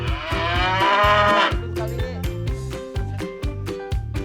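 A Belgian Blue cow lets out a loud, close moo, followed by a rapid rhythmic series of thuds and clattering knocks in a savanna pasture setting.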